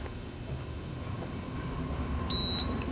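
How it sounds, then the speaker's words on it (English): A single sharp electronic beep from an ultraviolet water filter's reset button sounds near the end, short and clear, over faint background hum. "And you'll hear a beep, and that would reset this to 365 days."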